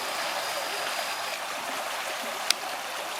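A small stream runs beneath a large cobweb on a river walk, giving a steady close rushing hiss throughout, with one brief sharp click near the end.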